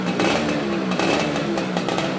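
A used Marlboro special edition motorcycle with double exhaust, its engine running and revving steadily up close, a loud continuous mechanical drone with rhythmic throttle pulses.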